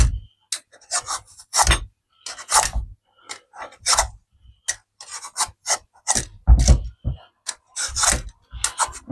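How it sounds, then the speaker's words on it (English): A vegetable is being peeled by hand, with repeated crisp rasping scrapes in irregular bursts, close and distinct, separated by short pauses. "just keep peeling it till the black bit comes off"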